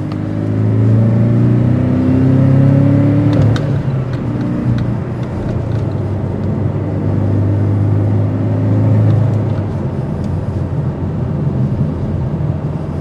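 A 2022 Porsche 718 Cayman accelerates on an interstate, its throaty exhaust rising in a loud, steady drone with rumbling low tones, one brief shift-like break early on, then sustained engine and road roar.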